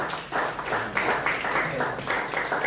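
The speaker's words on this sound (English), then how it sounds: "A round of applause for him." An audience at a World Fisheries Day fish party event applauds a speaker, producing a steady, dense patter of clapping that lasts a few seconds, moderately loud and with no talk on top.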